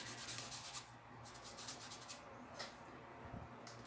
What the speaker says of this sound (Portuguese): Vou pegando tinta dos dois lados, ó, e vou esfregando.